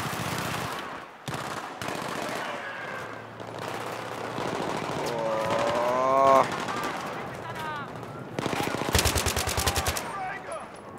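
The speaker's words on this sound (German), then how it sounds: "Auf jeden Fall wird hier gut geschossen." Battlefield 3 combat on Operation Guillotine, with heavy bursts of rapid automatic gunfire and single shots, loud and close, mixed with other battle noise and someone talking over parts of it.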